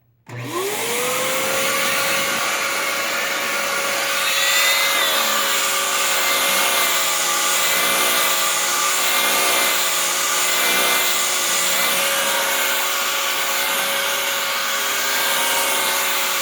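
A Dyson DC07 vacuum cleaner with a turbine head runs steadily and loudly from start to finish, its whine rising slightly partway through, with no talking.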